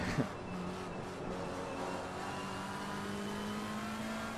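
Steady engine drone of a McLaren 720S GT3 in Assetto Corsa Competizione at Suzuka, a sustained mid-level tone holding through the run with no talking.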